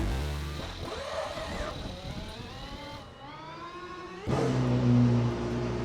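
Hypercar engine revving hard in the wet Le Mans Ultimate racing game at Monza, a loud whining roar rising through gears with shifting pitch sweeps, then dropping and surging back to a steady high drone.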